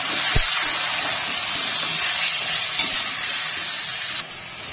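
Chopped chicken trimmings hit a hot pan of fried onion greens and sizzle loudly and steadily, with a faint clatter of stirring, no voices, before the frying drops a little quieter at the end.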